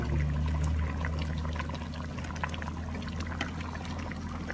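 Fish sauce is poured into a simmering Isan bamboo shoot curry, a faint trickle of liquid over a steady low hum of background noise.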